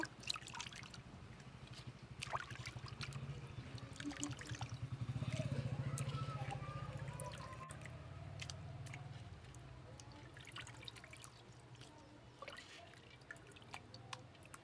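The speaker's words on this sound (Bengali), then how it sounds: "এখন গরুর মাংসটা ধুয়ে উঠাই পানি ঝরাতে দেব।" Water drips and trickles quietly from freshly washed beef as it drains, a faint, irregular patter close by with a slightly louder run of trickling partway through.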